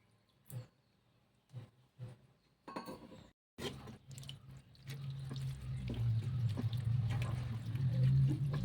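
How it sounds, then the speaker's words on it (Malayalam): Water poured into a pot of chicken curry: a few faint clinks and taps, then a brief splash, followed by a swelling stream of pouring water that grows louder and fuller toward the end, close by, without speech. "ഇതൊക്കെ ആവശ്യത്തിന് വെള്ളം ഒഴിച്ചെടുക്കാം കേട്ടോ"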